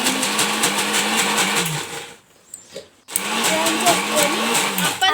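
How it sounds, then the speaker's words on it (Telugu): Mixer grinder grinding soaked moong dal into batter, a loud steady whirring drone with a rhythmic low churn that stops for about a second midway, then starts up again and runs on. "కొంచెం కొంచెంగా గ్రౌండ్ చేస్తూ గ్రైండ్ చేస్తూ ఉండాలి"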